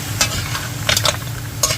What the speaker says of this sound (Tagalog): Yan, ganyan ang pagluluto ng tahong o mussel.